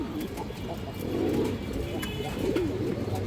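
A male pigeon coos in low, throaty bursts, two rounded calls heard close and fairly clear over light background noise, with no talking.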